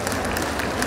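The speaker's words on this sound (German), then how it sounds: "Ihr dürft euch noch ein bisschen weiter klatschen." Steady applause from an audience at a cosplay contest, a dense, continuous wash of clapping with no gaps.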